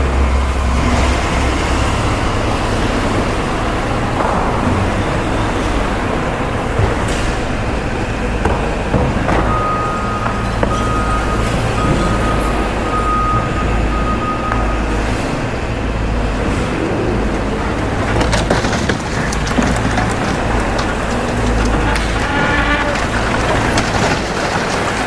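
Heavy truck engine held at high revs with the PTO engaged, a loud continuous diesel roar with mechanical clatter that keeps going for the whole stretch, with occasional faint beeps and no voices.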